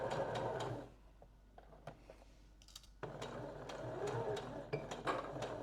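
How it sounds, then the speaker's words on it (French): A sewing machine stitches a dart in fabric, working toward the dart point in two loud, steady whirring runs separated by a quieter pause with a few faint clicks, close by. "je commence à coudre petit à petit en me réorientant pour coudre tout droit pour bien finir sur ma tête de pince"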